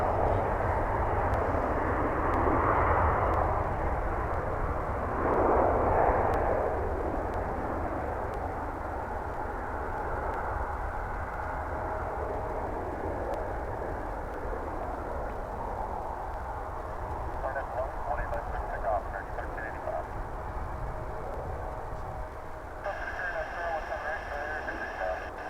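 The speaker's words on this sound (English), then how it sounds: "We now have a parade of aircraft, and we're just going to show them taking off on Runway DFW." Airliners taking off one after another from a runway at DFW Airport, heard as a steady broad jet roar sustained throughout, with a louder swell early on and faint radio chatter mixed in near the end.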